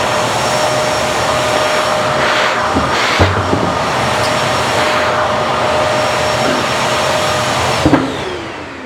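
An Oneida Supercell dust collector runs with a steady, loud broadband whoosh of airflow and motor hum that holds throughout, with brief knocks and a clunk near the end as the suction shifts.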